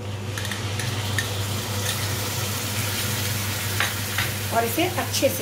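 Fennel-coriander powder being stirred into hot desi ghee in a pan, with a steady sizzle and scraping, clinking spoon strokes against the metal, close and continuous; someone speaks briefly over it.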